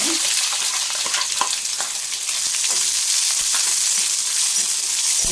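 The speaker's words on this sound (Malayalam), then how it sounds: "നമുക്ക് നന്നായിട്ടൊന്ന് വഴറ്റിയെടുക്കാം" Chopped tomato, onion and curry leaves sautéing in oil in a pan give a steady, loud, close sizzle, with occasional stirring scrapes throughout and no talk.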